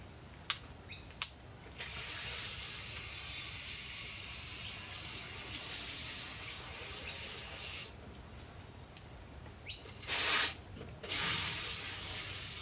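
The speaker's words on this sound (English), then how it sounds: "I'm just going to water the top of it just to make sure the dirt all sets down." A garden hose on a spray setting waters loose soil in a homemade recycled wicking bed, giving a steady close hiss that runs for several seconds, cuts out, then returns in short bursts.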